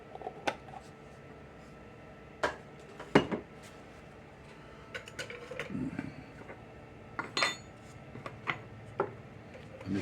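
A spoon scrapes and clinks against a bowl as dry biscuit ingredients, including baking soda and baking powder, are stirred together, giving scattered light taps and scrapes at irregular intervals.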